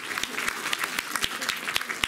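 Audience applause at a romance-song concert in a music school hall, a steady dense patter of many hands clapping close by for about two seconds, with no voices over it.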